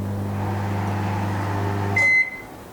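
A microwave oven hums steadily at close range, then a sharp electronic beep sounds from a button press and the hum cuts off.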